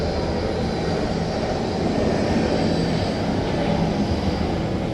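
A loud, steady roar of an airplane's engines as it lands at an airport nearby, a sustained rumble with no voices.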